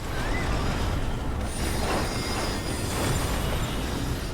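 Loud, continuous rumble of a heavy train crashing and derailing in a film, with metallic screeching and grinding, a dense roar that swells throughout.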